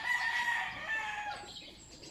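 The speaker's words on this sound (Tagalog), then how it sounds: "Ito ho ay Indian Peacock." An Indian blue peacock gives a short, high, drawn-out call, heard at moderate distance against an otherwise quiet outdoor background.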